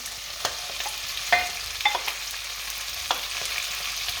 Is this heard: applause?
no